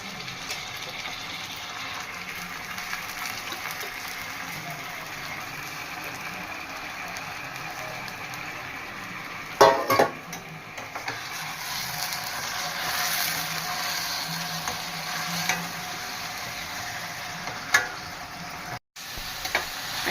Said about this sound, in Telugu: ఉల్లిపాయ చక్కగా ఎర్రగా వేగింది కదా, ఇప్పుడు మటన్ వేసేస్తున్నాను.